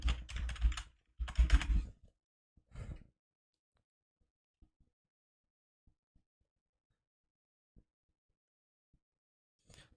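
Typing on a computer keyboard while setting up Visual Studio Code: a few dense bursts of quick keystrokes in the first three seconds, then scattered single clicks spaced across a quiet room.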